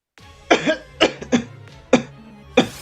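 Coughing and throat clearing brought on by hiccups, a series of about six sharp, close coughs and throat-clearing bursts spaced roughly half a second apart.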